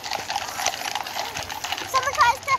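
Horses' hooves clip-clop on a London street in a quick, steady rhythm at fairly close range, while people talk over them.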